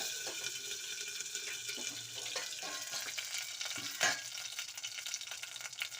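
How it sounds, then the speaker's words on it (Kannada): Curry leaves splutter in hot oil for a tempering for hotel-style idli sambar, a steady sizzling hiss with scattered pops and one sharper crackle partway through, close with no talking. "ಕರಿಬೇವು ಹಾಕಿ ಈ ಥರ ಪ್ಲೇಟ್ನ ಕ್ಲೋಸ್ ಮಾಡಬೇಕು ಇಲ್ಲಾಂದರೆ ಸಿಡಿತದೆ"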